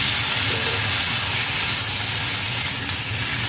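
Snake gourd pieces drop into a pan of frying garlic and green chilli, giving a loud, steady, close sizzle and hiss that holds evenly throughout with no pauses.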